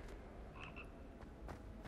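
A frog in the video game Hogwarts Legacy gives two quick, faint croaks in close succession over a quiet ambient game background.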